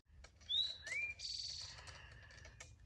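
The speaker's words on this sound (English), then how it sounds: "What kind of bird is that?" Bird chirping along a hiking trail on the Appalachian Trail: two clear rising whistled calls close together, followed by a buzzy trill, heard alone over low outdoor rumble.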